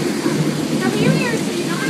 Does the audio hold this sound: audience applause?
no